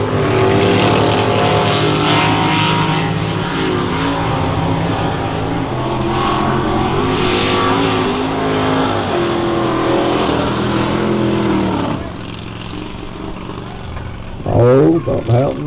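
A Dixie Outlaw and a blue truck roar around a race track, loud sustained engine drone with shifting pitch for most of the stretch, then dropping off before a short revving burst near the end.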